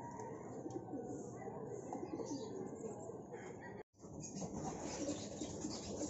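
Pigeons coo softly over a busy outdoor background in Pagbilao, Quezon, with a brief dropout partway through before the ambient sound resumes.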